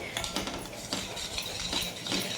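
Tamarind chutney frying over low heat while a spoon stirs and scrapes it in a pan: steady soft sizzle with repeated light clinks and scrapes of metal, close up, no talking.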